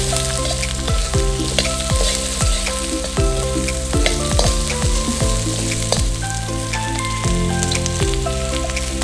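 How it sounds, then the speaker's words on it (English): Garlic, onions and green peppers sizzle loudly in an oiled wok during a stir-fry. The crackle is dense and continuous and sits close, with a steady tonal hum and occasional sliding tones layered on top. "followed straight away by our veg, that's our onions and green peppers, and give it a quick stir fry round."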